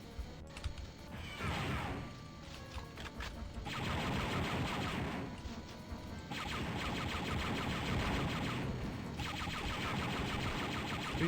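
Rapid turret gunfire from the Star Wars: Dark Forces video game, played on hard, rattles in dense bursts of crackling shots with short pauses between volleys, loud and continuous with no talk.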